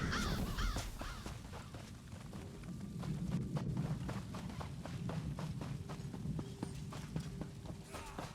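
Crows caw repeatedly in the fantasy video game Elder Scrolls Online, harsh calls scattered over a busy game soundscape with hoof-like clopping and rhythmic clicks.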